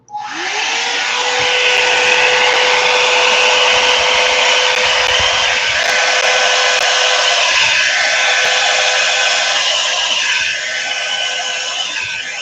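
Hair dryer switched on and running loud and close with a steady high whine and airy rush, droning continuously before cutting off at the end.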